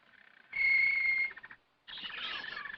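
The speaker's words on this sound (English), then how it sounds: "A canary, you said, and my dear little birds at once answered for themselves." Canaries in a bird shop, a loud sustained trill followed after a short pause by a busier burst of chirping, close and clear with no voices.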